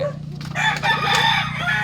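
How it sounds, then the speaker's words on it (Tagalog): A gamecock rooster crows loudly and close by in a drawn-out call, with a steady low hum and faint clucking beneath. "Ayan yung mga sabi ni Tisoy, dami mo palang manok sir, sabi sa akin."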